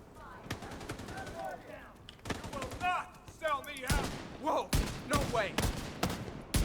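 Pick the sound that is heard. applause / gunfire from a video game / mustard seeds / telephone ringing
gunfire from a video game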